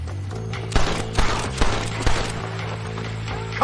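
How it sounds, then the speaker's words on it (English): Gunfire rattles through a shootout in the western game Red Dead Redemption, several sharp shots popping in irregular bursts over a steady low background hum. "This is gonna be one nasty shootout."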